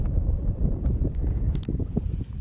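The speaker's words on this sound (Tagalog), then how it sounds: "Kusog kayong sa hangin" Strong desert wind buffets the microphone in a constant low rumbling roar, with a few faint rustles and crackles on top and no talking.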